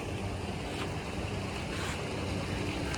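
Boats rocking on sea waves off a beach in Kanyakumari: a steady, loud wash of surf and wind noise with faint knocks and creaks of hulls, continuous throughout and with no speech.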